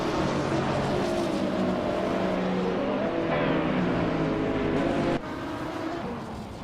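GT3 race cars such as a 2016 BMW M6 GT3 roar steadily around a track in a racing game, a continuous loud engine drone with shifting pitch that drops slightly near the end.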